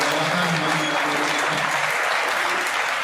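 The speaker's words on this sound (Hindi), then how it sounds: "जोरदार तालियां होंगी" An audience breaks into loud, sustained applause at a gathering, a dense, even roar of many clapping hands that holds steady throughout, with a faint murmur of voices underneath.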